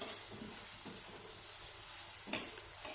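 Carrots stir-fry in a hot pan while being softened for fried rice-vermicelli noodles, giving a steady, close sizzle with a few brief stirring scrapes and no talking.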